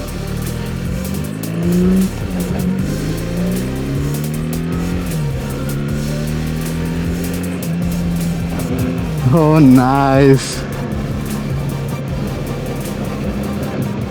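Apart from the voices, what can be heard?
motorcycle engine revving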